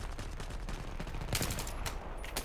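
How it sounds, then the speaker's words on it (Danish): Bursts of automatic gunfire and scattered shots from Battlefield 3 multiplayer gameplay with an M416 rifle, fairly faint and busy, with a sharper louder volley around the middle. "Her kan jeg ikke lige følge med, hvor skuddene kommer fra lige nu."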